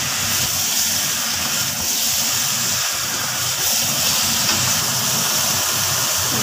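Pork belly dropped into a hot pot gives a loud, steady sizzle and hiss of steam that continues without a break, close and alone.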